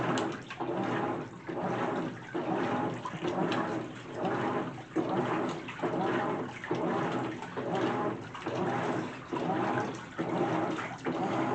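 A GE washing machine fills with water on its normal cycle, giving a steady rushing, splashing flow with a regular pulsing rhythm as the drum agitates, close by and without talking.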